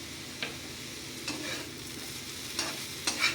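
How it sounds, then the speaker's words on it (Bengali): A softened vegetable filling for veg paratha is stirred in a pan with cumin, coriander powder and sugar, giving a steady close sizzle broken by a few sharp scraping strokes of the spoon, with no talking. "দিয়ে একসাথে ভালো করে এগুলোকে নেড়ে দেবো"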